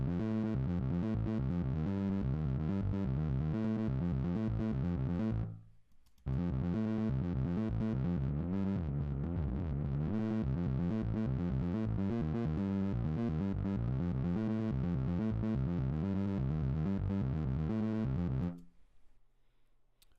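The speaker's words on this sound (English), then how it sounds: "I tried to bring up a little saw wave action and some distortion" A gritty, distorted synth bass plays sustained low notes in two long phrases, separated by a brief gap, with no voices.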